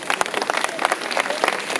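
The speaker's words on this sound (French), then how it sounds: "Et je crois qu'on peut applaudir." Audience applause at a literary tribute in a Touraine village, a steady wash of many hands clapping at close range for the whole stretch, with no voices over it.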